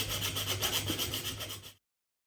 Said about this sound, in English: I might be able to just use a little bit of sandpaper